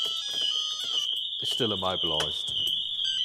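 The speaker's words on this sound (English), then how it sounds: "If somebody forced their way in, the alarm goes off" Pandora car alarm, triggered by a forced entry with the engine cut, sounds a loud, steady high-pitched electronic tone throughout, while someone speaks briefly over it.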